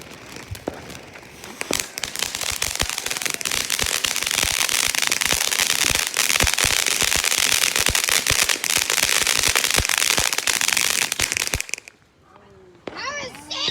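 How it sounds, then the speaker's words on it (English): Fourth of July fireworks burst and crackle continuously for about twelve seconds, a loud dense barrage of sharp pops and booms, then cut off abruptly, leaving a quieter tail with faint voices. "Yeah, that's some sick fireworks."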